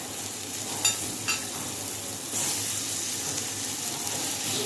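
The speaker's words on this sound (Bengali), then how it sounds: "এরপর রসুনটা দিয়ে ভেজে নেব" Garlic frying in a pan for an egg curry, a steady soft sizzle that grows a little louder partway through, with a couple of brief stirring clinks near the start and no talking.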